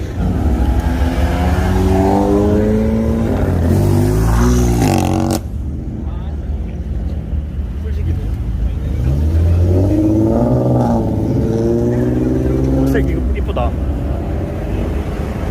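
Tuned cars on the road home rev hard, their exhausts climbing and falling in loud, rasping sweeps up close, with a brief lull between bursts and voices talking underneath.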